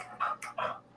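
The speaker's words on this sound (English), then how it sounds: "Sorry, Wolfie, I'm just watching your dog now" A dog that is part German Shepherd and part Shar-Pei gives three short, close whimpering yelps in quick succession, with no talk around them.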